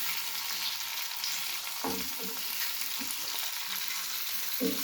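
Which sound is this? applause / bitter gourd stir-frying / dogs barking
bitter gourd stir-frying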